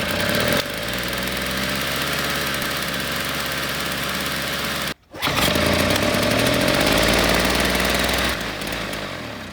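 A snow blower engine pull-started and running with a steady, loud mid-pitched mechanical drone and rattle that drops out in a brief gap near the middle, then resumes strongly, with no talk.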